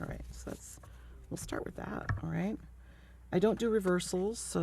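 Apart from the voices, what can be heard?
No everyday noises stand out.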